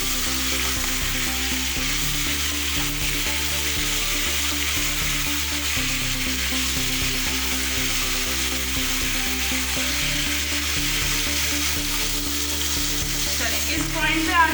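Chicken pieces for butter chicken frying in a pan over a high flame, giving a loud, steady sizzle and crackle that runs unbroken throughout with no talking.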